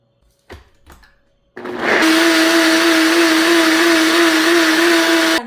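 An electric blender whirs up juice with a spoonful of honey, starting abruptly after a couple of soft knocks and then running loud, steady and close for several seconds.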